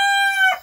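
A fighting cock crows once, loud and close: a strong, sustained call that rises and then breaks off sharply near the end. The bird is returning to the derby after a year without a fight and has been recovering from a wound.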